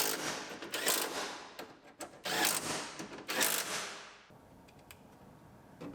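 A window regulator is bolted into a GMC Yukon door, producing three close, loud bursts of a power tool's whirring rattle, each lasting about a second, followed by quieter faint mechanical clicks.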